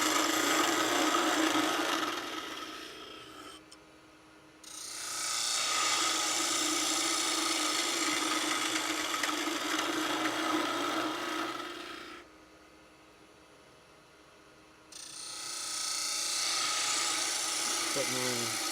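Woodturning gouge cutting a spinning wood blank on a lathe, a loud, steady rasping shear that runs for several seconds, pauses to a low motor hum, then resumes.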